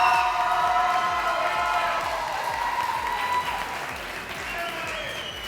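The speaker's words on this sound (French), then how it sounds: "ici on va essayer d'avoir un tonnerre d'applaudissements pour Marie Nicole." A crowd applauds and cheers an athlete at a CrossFit Open 18.2 competition on Réunion Island, steady sustained clapping with whoops and a tonal hum underneath, slowly fading over several seconds.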